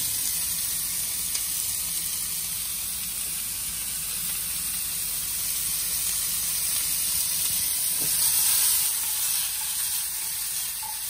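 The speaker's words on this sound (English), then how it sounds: "This one we can fry until it's getting a little brown." Vegetables for ratatouille fry in an oiled pan with a steady, close, even sizzle that stays constant throughout, with no talking.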